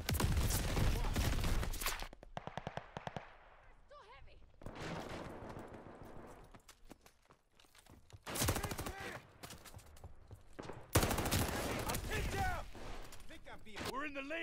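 Gunfire in Call of Duty Vanguard multiplayer: several loud bursts of rapid automatic shots separated by quieter gaps, with faint shots and battlefield noise between them and shouted voices mixed in.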